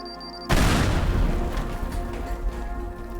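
A sudden heavy explosion in the video game Teardown bursts in after a moment of quiet, loud and close, then rolls on as a long rumbling, crackling tail of debris.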